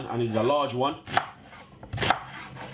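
A knife chops a large half white onion on a board, two distinct thuds following a man's brief speech, close and clear.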